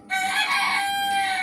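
A rooster kept at home gives one loud, close crow that starts abruptly and holds its tone for over a second.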